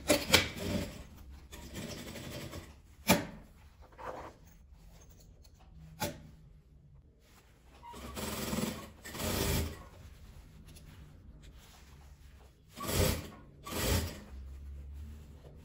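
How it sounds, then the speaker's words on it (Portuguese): A sewing machine stitches through jeans and fabric scraps for a patchwork pouch, running in several loud bursts of rapid whirring separated by pauses with quiet handling of the cloth. "Agora eu vou costurar desse lado."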